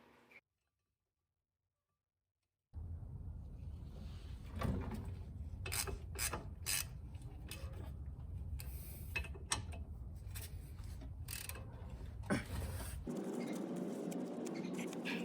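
A ratchet tightens the brake caliper bracket bolts on a car, giving quick close clicks and scraping over steady rough mechanical noise after a brief silent start. Nobody speaks.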